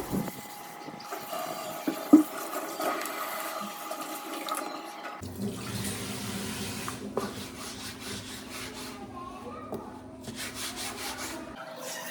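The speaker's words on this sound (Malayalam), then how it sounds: "അപ്പോൾ കട്ടിംഗ് ബോർഡൊക്കെ കുറേ കഴുകി" In a home kitchen, a cutting board is washed under a running tap. Water streams steadily while the board is rubbed and scrubbed, and the flow grows fuller and closer partway through.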